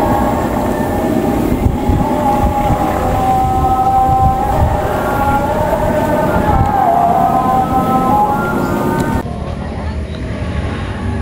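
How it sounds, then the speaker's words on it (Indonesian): Pangandaran passenger train departing a station: a loud, continuous rumble of rolling wagons with a sustained horn tone drifting through it, then the sound drops to a lower, steadier roar as it moves off. "Selamat jalan kereta api Pangandaran, semoga selamat lancar sampai tujuan di tujuan akhir stasiun Banjar."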